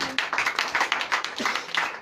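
A church congregation at a Sunday worship service in Comè, Benin, claps in quick, uneven bursts of individual handclaps, close and lively, with a faint voice or cheer in the background.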